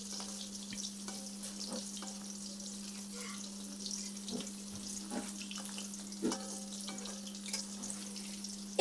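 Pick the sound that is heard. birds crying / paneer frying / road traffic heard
paneer frying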